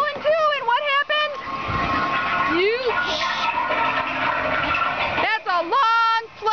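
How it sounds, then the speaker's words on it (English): Toilet flush at a miniature golf course hole in North Carolina, a long rushing gurgle of water running for several seconds, framed by children's voices talking and squealing nearby. "The toilet flushes."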